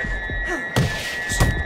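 A right-hand punch lands with a sharp thunk in the boxing video game Fight Night Champion, followed by a second impact, set against steady electronic hum and crowd ambience.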